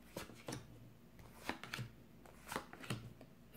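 Tarot cards cut and shuffled by hand during a reading, giving several soft, close papery riffles and slaps spread across a few seconds at low volume, with no talking.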